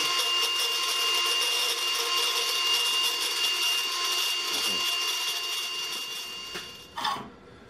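A Ryobi brushless angle grinder runs steadily through a runtime test, a constant high-pitched motor whine with a flat, sustained level that trails off slightly near the end, with a brief rustle just before it stops.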